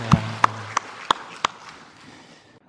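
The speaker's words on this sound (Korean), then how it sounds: "우리 하나님께 영광의 박수 올려드리겠습니다" A handful of separate, sharp hand claps ring out at a steady beat during a Korean church Sunday service, then die away into a quiet room.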